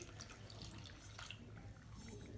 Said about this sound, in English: 1½ cups of warm water.